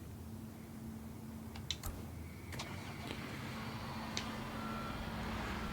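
Faint truck reversing beeps in the Construction Simulator video game, soft and low under a steady engine hum and ambient noise, with a few brief sharp clicks.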